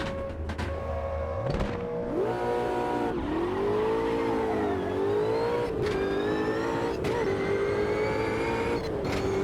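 A racing car engine in the sim racing game Automobilista 2 revs and climbs through gear shifts, its harmonic whine rising and falling steadily, loud and close with no voices.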